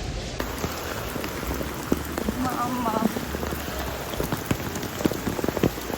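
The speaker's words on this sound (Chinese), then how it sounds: "就这种下暴雨的天气" Heavy rain pours steadily in Yilan, Taiwan, a dense hiss of drops pattering on surfaces throughout, with a brief voice speaking underneath.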